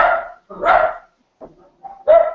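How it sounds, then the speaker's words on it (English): Several dogs bark in short loud bursts near a home computer setup, with pauses between barks and a final sharp bark. "Sorry, my dogs are barking."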